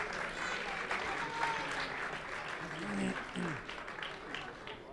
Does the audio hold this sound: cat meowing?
no